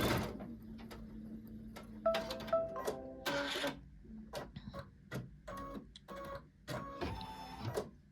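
Computerized embroidery machine stitching a border in dark thread, with a steady run of mechanical ticking and whirring broken by short rattling bursts and brief pauses, close and alone without speech.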